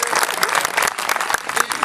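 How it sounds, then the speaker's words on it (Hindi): A live audience at a Hindi comedy poetry show breaks into loud, dense applause, sustained clapping filling the whole stretch with a few sharper claps standing out near the front. "एक बार आप अपने लिए तालियां बजाइए।"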